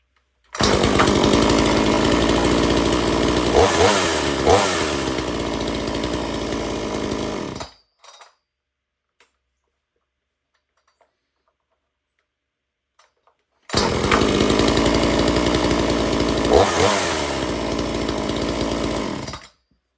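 A Homelite Super XL chainsaw roars loudly for several seconds, cuts out to silence, then starts again and runs steadily to the end.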